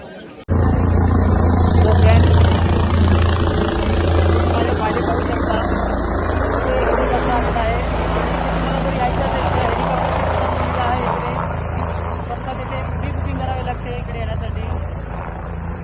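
Loud, steady helicopter rotor and engine roar heard from inside on a Kedarnath pilgrimage flight, continuous throughout, with low chatter from passengers underneath.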